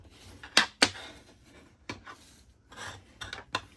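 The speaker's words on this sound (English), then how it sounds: "I'll go ahead and burnish that fold" Bone folder rubbed firmly along the scored fold of a card base cut 5 1/2 by 8 1/2 inches, scored at 4 1/4, giving several short close rasping strokes with brief pauses between them.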